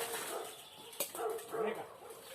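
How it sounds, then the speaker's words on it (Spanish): A dog barks outdoors at moderate distance, giving a single sharp bark followed by a couple of softer yelping, whimpering calls, all fairly faint over a hissy background. "¿Qué ladras?"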